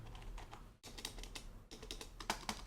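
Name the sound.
typing on computer keyboard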